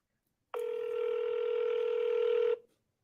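A telephone call back to a seller gives one steady ringback tone lasting about two seconds, clear and moderately loud, then silence.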